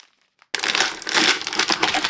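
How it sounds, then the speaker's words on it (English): Plastic bags holding desiccant packs for a Bambu Lab AMS 2 Pro are unpacked close up, giving steady, loud crinkling and crumpling after a short silence. "You also want to unpack these plastic bags"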